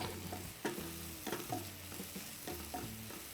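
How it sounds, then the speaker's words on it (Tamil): Onions frying in ghee for a mushroom dum biryani give a steady, moderate sizzle, broken by several sharp scraping stirs, with faint tonal sounds running underneath. "we are frying the onion"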